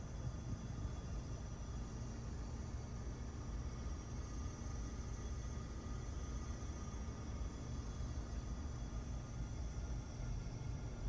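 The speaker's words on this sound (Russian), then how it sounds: "завели машину и услышали вот такой вот звук из своего кондиционера" Steady broadband hiss with faint whistling tones runs unbroken from a car air conditioner, constant in level, with no voices.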